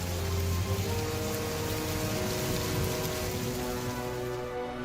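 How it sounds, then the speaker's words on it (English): A wind and rain storm at sea in a cartoon, with steady heavy rain and wind noise filling the whole stretch at a constant loud level. "Salty and Fergus were fighting their way back through the wind and rain."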